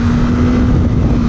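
A 2021 Honda Fireblade CBR1000RR-R SP motorcycle accelerates in second gear after a quick-shifter upshift, giving a loud, steady engine drone with a strong sustained tone under heavy wind rush, no talking.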